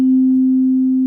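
A tuning fork that is in tune gives a single pure, steady tone, loud and alone, holding at one pitch.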